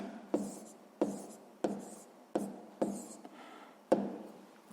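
Pen or pencil scratching out a math answer on paper for a fifth-grade exercise, six short strokes in an uneven rhythm, close and clear with no talking.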